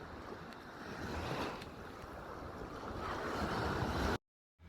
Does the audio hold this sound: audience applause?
no